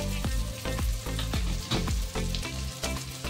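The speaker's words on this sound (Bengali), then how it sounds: "এবার পেঁয়াজটা একটু ভেজে নিই" Onions frying in a pan for Bengali dhaniya chicken, a loud close sizzle with repeated scraping strokes of a spatula stirring at an uneven rhythm, no talking.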